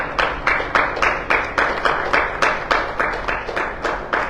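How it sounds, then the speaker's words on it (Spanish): A church congregation claps in steady rhythmic unison during a Sunday service, about two or three sharp beats per second, loud and close, with no talking over it. "Denle un aplauso fuerte al Señor"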